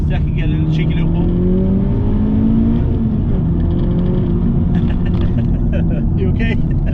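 A Honda Civic Type-R FK8 engine pulls hard through the gears, a steady loud drone rising in pitch with shifts, heard from inside the car with occasional voices over it.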